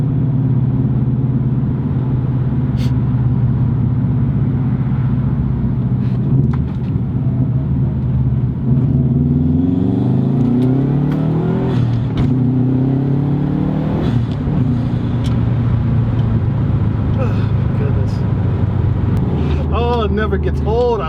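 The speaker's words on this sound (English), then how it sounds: "I'm gonna go ahead and do a little quick pull for you" A 2010 Subaru STi makes a quick pull, its engine note rising and sweeping upward through the gears over a steady rumble, loud and close, with a voice talking over it.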